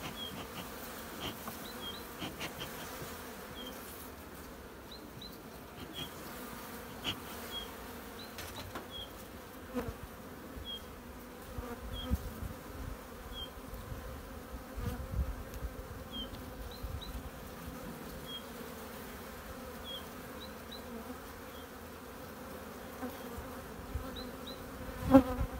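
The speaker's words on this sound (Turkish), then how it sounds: "Arılar çıkmaya başlıyor." Honeybees buzz steadily at a hive in a low, continuous hum close by, with occasional faint clicks and shuffling, no voices.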